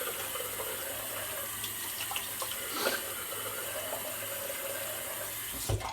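Cold water running from a tap for a face rinse during a shave, a steady close hiss of flow lasting throughout with brief splashes of hands and face in the stream.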